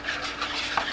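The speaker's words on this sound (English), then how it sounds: "You whisk it for a little bit." Whisk stirring homemade baby wipe solution in a bowl, a soft close swishing with a few light clinks against the side, alone with no talk.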